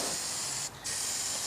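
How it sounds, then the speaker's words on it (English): Plasti-Dip aerosol sprayed onto gun case foam, a loud continuous close hiss with a brief dip in the middle before resuming. "you don't want to spray it inside the house unless you're ventilated"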